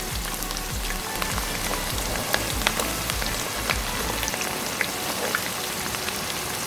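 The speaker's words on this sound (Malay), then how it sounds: "kita masukkan bawang tumiskan bawang merah" Red onions sautéing in a pan for a mamak-style fish curry, giving a steady dense sizzle with crackling pops and a low rumble through the first part, continuous and close with no talking.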